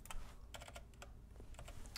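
Quick, steady typing on a computer keyboard while writing Python code, a close run of light, crisp key clicks with no talking.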